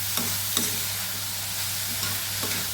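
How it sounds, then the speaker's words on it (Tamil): Mixed vegetables sauté in a pan for an evening snack, with a steady close hiss and sizzle and a few soft scrapes as they are stirred. "சேர்த்துட்டு இது கொஞ்சம் நல்லா ஒரு வதக்கு வதக்கிக்கிங்க"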